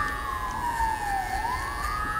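An emergency vehicle siren on a Bronx street wails loud and close, sweeping down and then back up in pitch over a constant traffic rumble.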